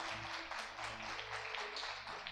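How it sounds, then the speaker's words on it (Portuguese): Congregation applauding during a church service, a steady broadband wash of clapping hands that holds evenly throughout, fairly distant and moderately loud, with no voices rising above it. "pode aplaudir ao Senhor"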